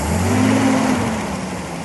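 A 1960 AMC Rambler engine running close by, a steady mid-pitched hum with a slight rise and settle, loud and alone without talk.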